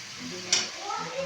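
Chopped tomatoes drop into hot oil in a home kitchen pan, setting off a sudden sharp sizzle that fades into a softer crackle as they are stirred, with faint voices nearby.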